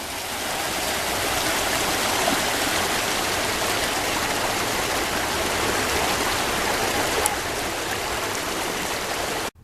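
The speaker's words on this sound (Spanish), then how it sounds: "el monstruo de la espuma que cae de la estación Chichimenes, que termina con contaminar todo nuestro río" Foam-laden water pours from the Chichimenes station into a river, a loud, steady broadband rush of falling water that holds unbroken throughout with no voices.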